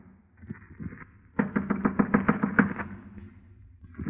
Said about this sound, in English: I clenched my teeth, my knuckles, and knocked on the door.